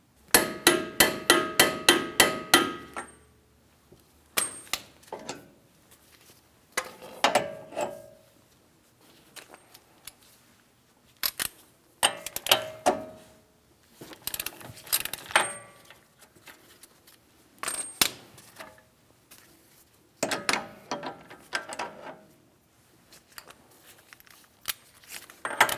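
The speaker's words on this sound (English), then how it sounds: "I'm going to be torquing this to 203 foot-pounds" A rapid run of metallic ratchet clicks opens the clip as a wrench works on a rear backing plate mounting nut of a 2007-2014 Ford Edge, then sharp clanks and clicks follow in spaced bursts, close up, with no talk.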